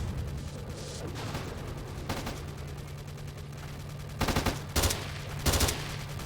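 Bursts of gunfire in the video game S.T.A.L.K.E.R.: Shadow of Chernobyl crack out in the second half, several short volleys in quick succession over a constant low electronic hum.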